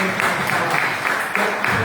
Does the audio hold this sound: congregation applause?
yes